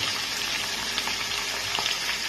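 Potatoes and cauliflower frying together in oil with salt, a steady close hissing sizzle with faint bubbling pops, continuous and even, no voices.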